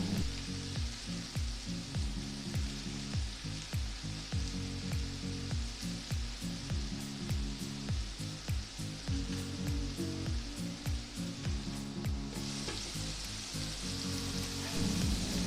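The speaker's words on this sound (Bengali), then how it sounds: "গুঁড়ো মশলার সঙ্গে আলু আর মশলা কষাবো" Diced potatoes fry in a pan with ground cumin, turmeric and Kashmiri red chili powder, giving a steady, dense sizzle with regular scraping stir strokes throughout and no voices.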